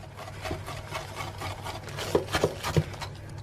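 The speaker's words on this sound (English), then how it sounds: "And now give that a good whisk through until it's fully incorporated." A whisk stirs coconut flour into loaf cake batter in a bowl, producing close, continuous scraping and rubbing with a few sharper taps against the bowl near the end.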